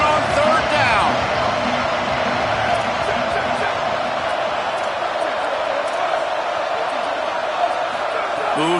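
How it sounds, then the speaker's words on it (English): A football stadium crowd roars during a Florida Gators third down, holding a dense, steady wall of noise throughout. A commentator talks over it. "This crowd unhinged, trying to make sure the Gators don't back down on third down."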